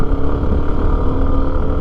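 A motorcycle engine runs at a steady, loud idle, close by, with a dense low rumble throughout and no talking.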